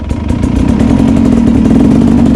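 A Sherco 300 Factory trials motorcycle fitted with a Rekluse automatic clutch pulls away in first gear, its engine holding a loud, steady, close-up putter with clattering mechanical texture throughout.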